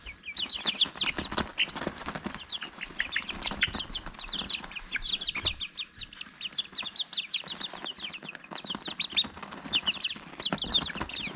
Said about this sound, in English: food is definitely the way to make friends with chickens